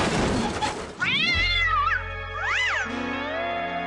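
A cartoon cat lets out two drawn-out, wavering meows, close and loud, the second rising and falling over a low sustained tone beneath.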